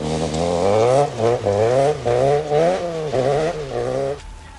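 An Opel GSI rally car at the 1988 RAC Rally, its engine revving hard and close, climbing and dropping in repeated gear-change pulses before falling away near the end.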